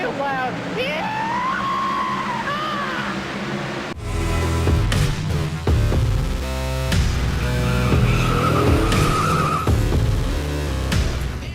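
Race cars roar and skid around a loud track in iRacing, with engines droning, shifting pitch and tires squealing, and a voice cutting in at times over the steady din.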